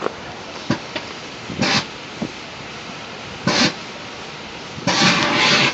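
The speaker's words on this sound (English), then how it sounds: "That's the noise of electrical fire." An electrical fire below a New York City street sends out irregular bursts of harsh hissing, sputtering and sharp crackling pops over a steady outdoor rumble, with the longest surge near the end.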